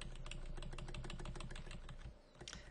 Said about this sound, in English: I'm using the arrow keys on my keyboard again